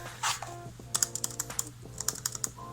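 2019 MacBook Pro laptop keys clatter in quick, uneven bursts of light plastic clicks, close to the listener, over a low steady hum.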